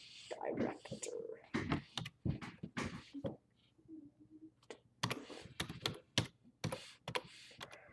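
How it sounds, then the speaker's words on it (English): Quick bursts of clicky typing on a computer keyboard at a desk come in short clusters and isolated taps, fairly close and quiet, with a person murmuring softly between keystrokes. "I'm typing it in"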